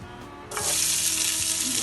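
Onions drop into a hot pan of olive oil and at once set off a loud, steady sizzle that carries on without a break, with a faint clink just before the food goes in.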